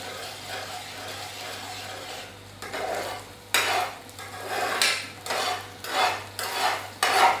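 Chicken korma thickened with evaporated milk being stirred in a pan, a spoon scraping and clattering in repeated rhythmic strokes over a steady low hum, close and fairly loud with no talking.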